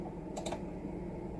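Two quick clicks come from typing on a computer keyboard while an HTML document is created, faint against a steady background hum.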